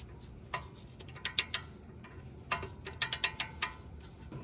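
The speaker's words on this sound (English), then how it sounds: "We're gonna torque these two bolts down here." A ratchet wrench torquing lower control arm bolts on a 2009 Hyundai Sonata during a ball joint replacement, heard as irregular bursts of light metallic clicks, fairly quiet and close, with short pauses between strokes.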